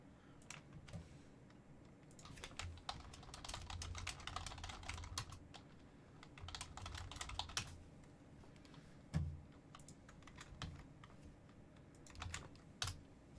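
Computer keyboard typing in the background, a steady run of quick clicking keystrokes in irregular bursts with brief pauses, fairly quiet and close, no voices.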